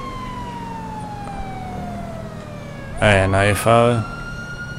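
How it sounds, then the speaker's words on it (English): Police car siren in the LSPDFR video game mod, a falling wail running in the background before a loud, close burst of yelping siren tones, with someone talking over it. "My siren was on!"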